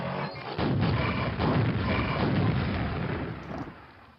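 Rocket launches and heavy explosions from the first-person shooter Quake (Scourge of Armagon expansion) boom loudly and continuously, with overlapping blasts and rumbling that fade toward the end.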